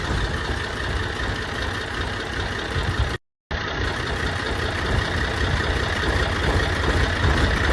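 A 4x4 DI 550 NG AC four-wheel-drive tractor built by Asta Agro Tools idles close by with a steady, even engine drone and no talk. The sound cuts out briefly partway through.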